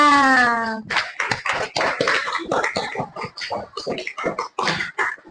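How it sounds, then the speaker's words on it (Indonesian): A group of people, seemingly a class, clapping hands together after a brief sung or sustained voiced note at the start; sharp, fairly loud, irregular claps close by that carry on in bursts. "Tepuk tangan dulu untuk kita semuanya."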